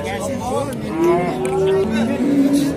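Dairy cows low several times at the Nookat livestock bazaar, drawn-out moos close by over a busy market background with faint people talking.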